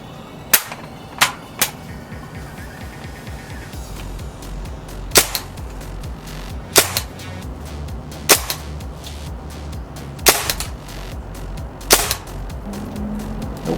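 Tippmann M4 CO2-powered gun firing, about ten sharp, loud shots spaced irregularly over a steady background hum, no talking.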